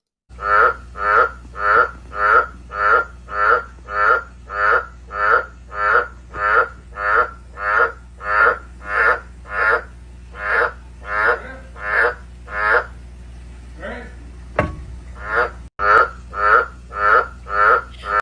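Frogs croak in a steady, rapid series of loud, evenly spaced calls that run on and on, pause briefly with a faint knock, then resume close by.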